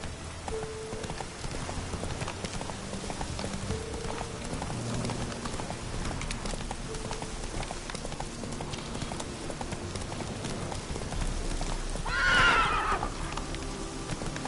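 A horse clip-clops at a steady pace under a light rain-like hiss, then lets out a loud, clear neigh near the end.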